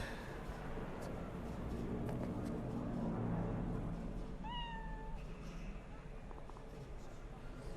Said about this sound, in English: And a nice cat.